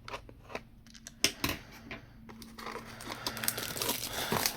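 Scissors or a blade slice through the plastic wrapper of a Weiss Schwarz UmaMusume trading card booster box, with close snips followed by crinkling and rustling of the film as it is pulled away.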